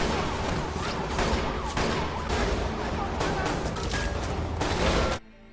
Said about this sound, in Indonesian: Aksi baku tembak antara kedua kubu pun tak bisa dielakkan.